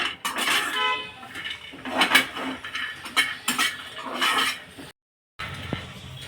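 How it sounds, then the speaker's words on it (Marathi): Peanuts and dried coconut dry-roasting over medium heat in a pan, heard as repeated scraping and clinking of a spoon against the metal in irregular bursts, close and moderately loud, with a brief dropout near the end. "आता हे शेंगदाणे सुद्धा खोबऱ्यासोबत भाजून घ्यायचे आहे मध्यम आचेवर भाजायचे आहेत"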